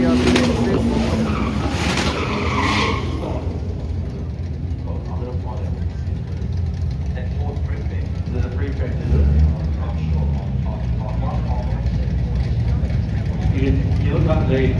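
A Volkswagen truck drag racing at a truck drag event at Sydney Dragway, its loud engine roar and tyre squeal running continuously with voices mixed in.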